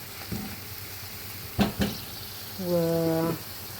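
Small cubed gizzards sautéing in a very hot pan, a soft sizzle under brief clatters of stirring. Someone speaks briefly.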